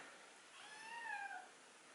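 Kitten locked inside a room meowing, one drawn-out, rising-then-falling cry heard faint and muffled from a distance, with no talk.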